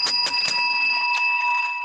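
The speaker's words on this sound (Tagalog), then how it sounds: "okay, bell time" A bright, sustained bell rings with several quick struck hits that blend into a lingering metallic tone, loud and clear with no talking.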